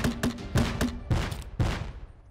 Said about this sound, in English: Let's use the grenade launcher.